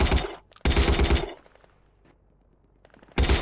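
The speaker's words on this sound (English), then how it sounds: "I hear gunshots in the distance." Rapid bursts of distant gunfire in the video game Battlefield crackle in quick volleys, pause into near silence with faint pops, then another burst erupts.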